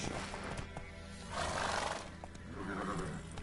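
Roach, a horse in a video game, neighs and whinnies in two loud, close bursts, with faint hoof clatter and game ambience running underneath.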